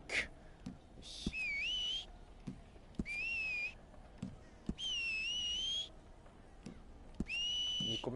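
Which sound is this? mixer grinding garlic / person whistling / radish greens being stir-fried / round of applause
person whistling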